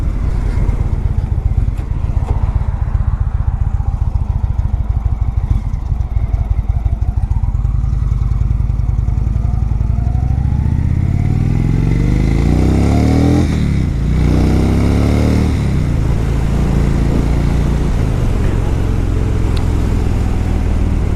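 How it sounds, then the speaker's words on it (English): A new Polaris-era Indian Chief Vintage motorcycle with a Thunderstroke V-twin rumbles loudly and continuously while being ridden, its deep engine note rising and falling through gear changes and acceleration, close and dominant throughout, with no talk. "I never really got a chance to ride a new Polaris Indian. Feels good. Thunderstroke."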